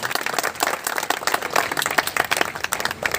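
A hall audience at an MDU auditorium event claps in a lively, dense burst, individual sharp claps popping out of the steady crowd applause for several seconds, no talking over it.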